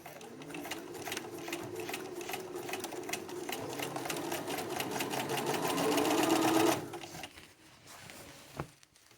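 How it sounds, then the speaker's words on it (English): A sewing machine stitches a jacket undercollar at a 5/8 inch seam, running in a fast steady whir that builds slightly, then stops abruptly, leaving quiet handling clicks afterward. "Starting on the large circle, sewing at 5/8 of an inch."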